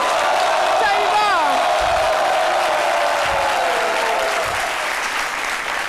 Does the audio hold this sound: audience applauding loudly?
yes